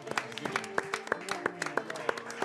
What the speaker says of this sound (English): Let's give both these teams a huge round of applause.